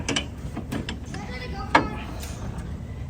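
A ratchet on the 22 mm alternator pulley bolt turns the crank of a Scion xB engine, heard as brief mechanical clicks and a single sharp clack up close, with soft speech nearby.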